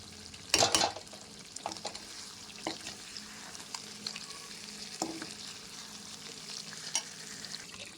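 Ginger garlic paste roasting and being stirred in a pan for a chicken curry, with a loud scrape and clatter near the start, then softer stirring scrapes over a faint sizzle.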